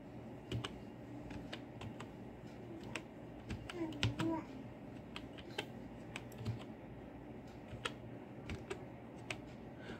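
Keystrokes on a computer keyboard while a file name is entered in a Windows save dialog, heard as a quiet, irregular patter of clicks over a low background hum.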